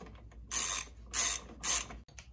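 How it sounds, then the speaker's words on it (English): A ratchet with a 10 mm socket tightens screws on a Hi-Lo shifter bracket of a Honda kit: three short, bright bursts of rapid clicking, close and loud, with quiet gaps between. "Tighten them down with a 10 millimeter socket."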